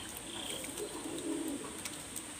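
Pigeons coo softly and continuously at close range, giving a low murmuring drone with faint chirps and rustles over a steady background hiss.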